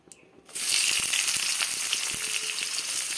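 Chopped onion drops into hot oil in a wok and bursts into a loud, continuous sizzle that holds steady after a brief quiet start.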